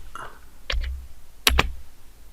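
Two short bursts of key presses on a computer keyboard while typing a word, close and clear against a quiet room.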